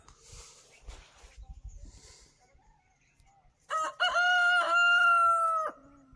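A rooster crows loudly and close by in one long, drawn-out call near the end, following quieter outdoor rustling and faint voices on a pilgrimage walk along the Narmada between Bhamana and Dhadgao.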